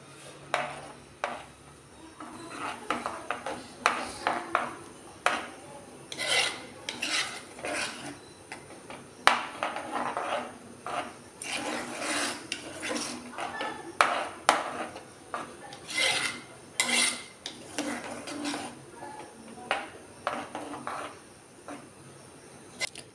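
Spoon stirring curd in a cooking pot for Kerala kurukku kalan, a steady run of light scraping clinks and taps against the metal, close and irregular, with no talking.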